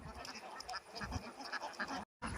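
Ducks quack in a lively chorus in a Kerala village, many overlapping calls near and far, with a brief silent gap just before the end.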